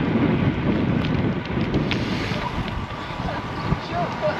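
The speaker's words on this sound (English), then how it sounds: "Might not be raining, but it's very windy today." Strong, blustery wind roars across the microphone in a steady broadband rush during an outdoor bike ride on a windy day, with the gusts swelling and easing and never dropping away.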